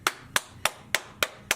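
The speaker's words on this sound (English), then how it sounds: "Hey, you should clap." Six sharp hand claps at a steady rhythm, close and distinct, with short silences between them, in a podcast studio setting.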